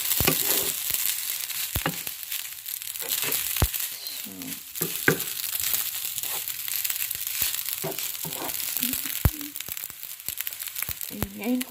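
Garlic fried rice frying in a pan, a steady sizzle broken by sharp scraping and tapping of a utensil stirring the rice at irregular intervals, close up.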